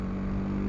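A motorcycle held in third gear on a dual carriageway revs up, a close, loud, steady engine drone with a strong low tonal hum, very brief.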